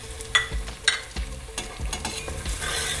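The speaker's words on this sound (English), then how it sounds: "Just I'm going to stir all of this." A spoon stirs spiced onions in a hot pan for a chole curry, giving rhythmic scraping strokes about every half second over a steady close sizzle.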